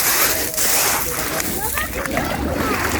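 Water splashes and sloshes close by as someone wades into the sea at a pebble beach at Konyaalti, Antalya, with a steady broadband wash throughout and faint voices in the background.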